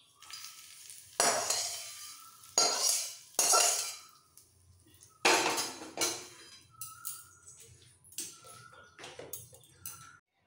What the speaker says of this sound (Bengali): ওপর থেকে ফোড়নটা ঢেলে দেবো।